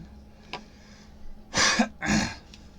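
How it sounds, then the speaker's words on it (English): A man clears his throat twice in quick succession, loud and close, after a faint click, during a tabletop role-playing session while voicing a character; no speech around the sounds. "I clear my throat to get Brock's voice right again."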